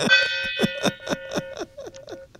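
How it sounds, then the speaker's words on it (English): A small gong is struck in a quick series of about eight bright metallic hits, each with a short ringing tail, near and fairly loud, the strikes growing softer toward the end. "I now have the gong, by the way. Let's hear it again."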